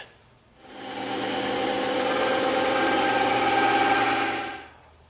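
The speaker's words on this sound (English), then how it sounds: "we're going to tip our bandsaw table and we're gonna just shave a nice bevel off all the way around" A bandsaw with a tilted table shaves a bevel off EVA foam, a steady whining hum that ramps up, holds evenly for about four seconds, then drops away.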